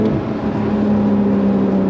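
A 450-horsepower Porsche 911 991.2 GTS engine revs high in a sustained, rising whine, loud and close, with no talk over it.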